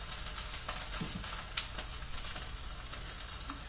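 An egg-dipped Monte Cristo sandwich sizzles in a pan over low heat just after being flipped, giving a steady, fairly loud crackling hiss with scattered pops throughout.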